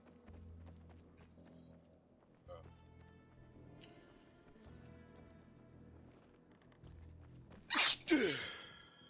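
A single sharp sneeze bursts out near the end, loud and close, after quiet stretches of video-game sound with low rhythmic thumps in the background.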